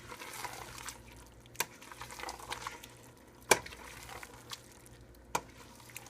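Garlic being stirred into sizzling vegetables in a pan for chimichangas, a soft steady fry with a few distinct scrapes and clinks of the utensil against the pan.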